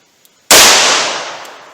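After a brief quiet moment, one sharp, loud gunshot cracks from a 4-inch-barrel revolver loaded with Underwood Xtreme Defender .38 Special +P 100-grain rounds, then its echo decays steadily over the next second.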